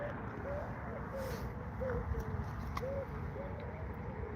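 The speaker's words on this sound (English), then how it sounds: "You hear them? That's the wood pigeon." Wood pigeons cooing outdoors, a series of soft, rhythmic coos repeating at moderate distance beneath steady wind and background noise.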